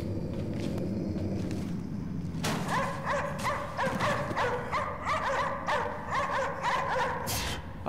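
Dogs barking and yipping from cages aboard a boat in the video game Cryostasis, a run of sharp repeated barks that starts partway through and continues over a low droning game ambience, fairly close and loud.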